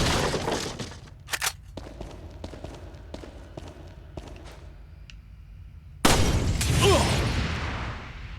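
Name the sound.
door being kicked down in the video game Resident Evil 4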